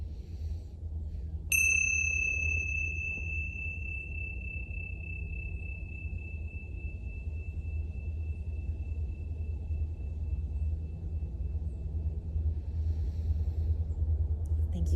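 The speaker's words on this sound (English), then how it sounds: "Thank you for these bells I got at the top of a valley in Topanga Canyon" A meditation bell from Topanga Canyon is struck once and rings a clear, sustained tone that slowly fades over many seconds above a steady low rumble in a quiet room.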